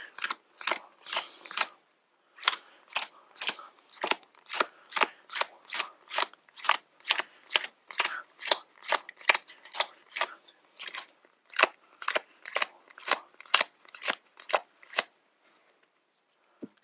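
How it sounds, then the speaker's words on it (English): Crisp, rapid snaps of playing cards being dealt one by one into four piles, in a steady rhythm with brief pauses, close and clear. "what I'm going to do now is I'm gonna put these into 4 piles"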